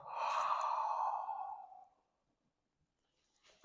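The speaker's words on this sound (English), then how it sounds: "inhale through the nose, exhale through the mouth" A single long breath pushed out during a bench press setup, lasting about two seconds and then trailing off into near silence, close and fairly soft.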